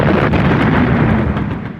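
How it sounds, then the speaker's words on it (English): A hollow charge detonates on a fort's observation dome, a loud, dense blast with a deep rumbling body that holds strong for under two seconds before starting to fade. "A hollow charge was placed on the observation dome. The fuse lit. 10 seconds later, it exploded."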